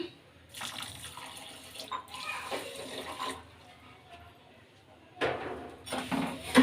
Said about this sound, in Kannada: ಸ್ವಲ್ಪ ನೀರು ಕೂಡ ಸೇರಿಸ್ಕೊಳ್ಳೋಣ